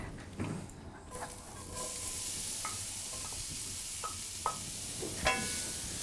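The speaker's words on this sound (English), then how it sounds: "we're gonna go ahead and cook up some onions to go into our gravy" Onions frying in lard in a pan after beef steaks, a soft steady sizzle that swells after the first couple of seconds, with occasional light clicks of a utensil, fairly quiet and without talking.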